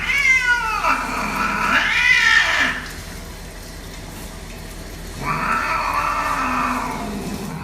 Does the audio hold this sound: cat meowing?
yes